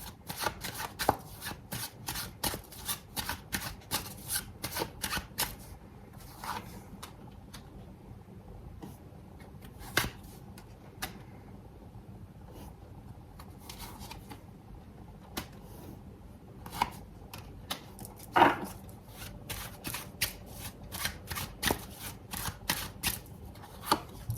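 Tarot cards being shuffled by hand, close and fairly quiet, in rapid riffling bursts and soft clicks with short gaps, continuing with no talking throughout.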